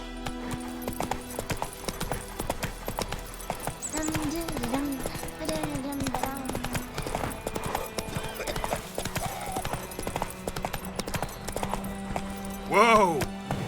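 Roach, the horse in The Witcher 3: Wild Hunt, galloping with rhythmic clip-clop hoofbeats throughout, along with a whinny, game music and voices talking over it.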